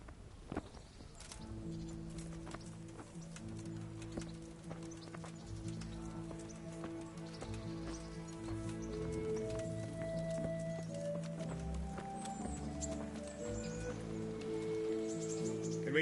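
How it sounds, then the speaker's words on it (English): Horses clip-clopping in the medieval video game Kingdom Come Deliverance, hooves steady and continuous under a layered bed of sustained orchestral music that swells toward the end. "Get your horses mounted up and let's ride out"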